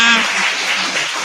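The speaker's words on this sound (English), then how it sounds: "Those applause scare me." Audience applause at a county political gathering, loud and close. A brief voice is heard at the start, then clapping continues steadily.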